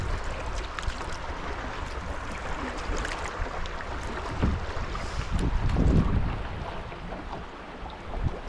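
Rushing river current swirls around a canoe on an ice-out spring trip in Maine, a loud steady wash of moving water with wind buffeting the microphone, swelling briefly as the flow speeds up.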